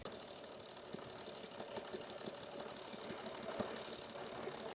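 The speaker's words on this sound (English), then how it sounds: "I'm just letting the engine run, getting it up to temp" Car engine revving steadily at about 2000 RPM while warming up, a quiet continuous drone with faint irregular ticks and knocks, heard from a distance with no talking.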